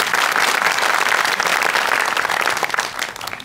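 Studio audience applauding a comedy sketch on a stage comedy show, a dense, steady wash of many hands clapping at close range that holds loud throughout and tapers slightly at the end.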